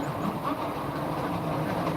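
A small ride-on train carrying children and adults rolls through a restaurant, giving a steady, close rumbling clatter that holds evenly throughout with no talk.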